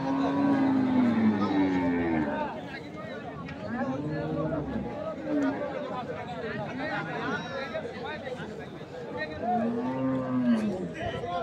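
Cows and calves at a cattle market giving several long, drawn-out moos, a few near and loud, others further off, over the busy chatter of a crowd and people talking.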